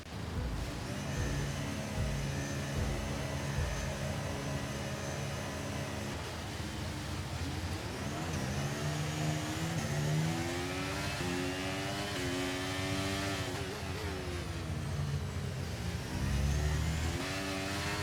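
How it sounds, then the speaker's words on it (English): F1 race cars launch off the grid at the start of a race in the F1 23 video game, a dense chorus of high-revving engines climbing through gear changes, loud and continuous with no voices. "Great start, overtook Charles Leclerc straight at the beginning."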